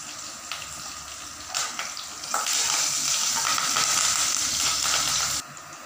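Green chilies and curry leaves frying in hot oil, a close steady sizzle that flares louder and brighter midway as more leaves hit the pan, then cuts off abruptly.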